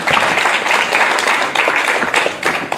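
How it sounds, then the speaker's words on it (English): Audience applause at a library project summit, a dense steady wash of many hands clapping that fills the whole stretch at full volume with slight surges. "Can we give another round of applause to Arthur Johansson from the school?"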